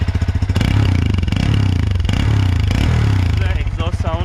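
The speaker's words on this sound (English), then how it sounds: "The exhaust sound of my exhaust" Hero Xpulse 200 motorcycle with its muffler removed, stock exhaust otherwise, barking loudly as it revs up and holds, then settles back toward idle with a choppy, raw tone.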